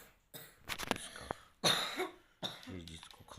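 A child coughs in a few sharp, close bursts with short pauses between them, loud and mixed with some throat-clearing sounds.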